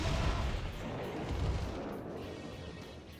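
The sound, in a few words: explosion blowing up the hostage building in Metal Wolf Chaos XD video game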